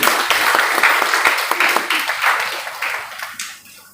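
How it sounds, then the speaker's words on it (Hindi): An audience at a college program for Premchand Jayanti claps to welcome guests onto the stage, dense loud applause that gradually thins and fades toward the end. "आप लोग ताली बजा करके स्वागत करेंगे।"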